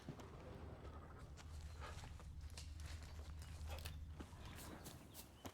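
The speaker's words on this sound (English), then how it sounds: "A horse named... Horse." Horse hooves clip-clopping in The Witcher 3, a quiet, steady run of hoofbeats with creaking tack and a low rumble beneath, fairly faint and close.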